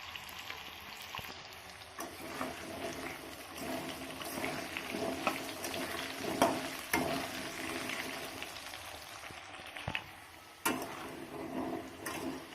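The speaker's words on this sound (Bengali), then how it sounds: "এবার আলুটাকে লাল করে ভেজে নেব এর সঙ্গে।" Potatoes browning in a pan alongside a rohu fish head, a steady close sizzle with occasional stirring clicks and scrapes, no voices.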